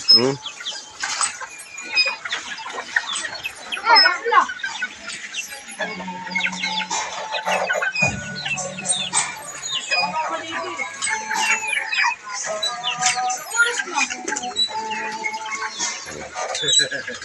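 Chickens cluck and call around a farmyard, with a rooster-like crow and occasional wing flaps mixed among nearby voices.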